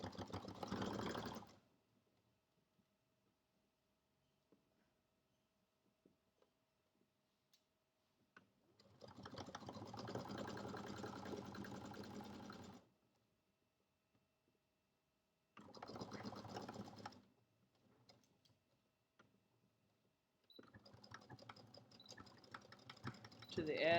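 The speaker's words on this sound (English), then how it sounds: "Now I'm sewing past that notch that I cut." Sewing machine stitching a seam on pajama shorts, several separate bursts of fast, close, steady whirring stitching divided by quiet pauses.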